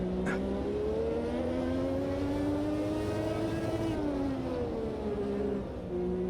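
A 1986 Formula 1 car engine in the Automobilista 2 racing game drones steadily at high revs with 70% boost pressure, its pitch rising and dipping slightly as it holds speed, loud and continuous.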